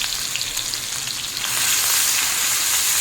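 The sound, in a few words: frying onion paste, ginger-garlic paste and dried chillies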